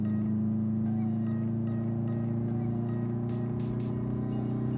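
A Subaru on soft Cygnus Performance X-1 coilovers driving over rough, bumpy back roads, heard from inside as a steady low engine and road drone, with intermittent thumps and rattles as the suspension takes bumps.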